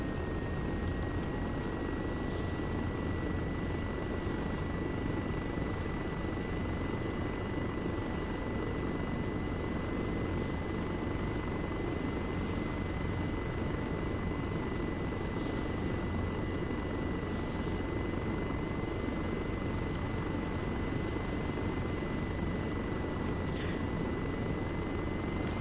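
Distant helicopter rotor drone from a KA-52 gunship and other helicopters in the Arma 3 military game, a continuous faint hum with no talk over it.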